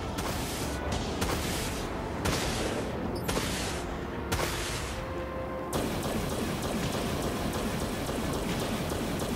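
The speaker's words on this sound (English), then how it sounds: "Send the vultures. Vulture missiles are out." Vulture missiles launch in the space combat game Dreadnought, a series of sharp whooshing bursts over the first six seconds, then a steady dense crackling barrage fills the rest, loud and continuous with no talking.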